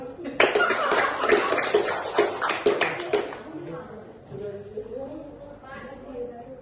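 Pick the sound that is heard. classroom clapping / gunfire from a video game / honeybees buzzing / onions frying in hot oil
classroom clapping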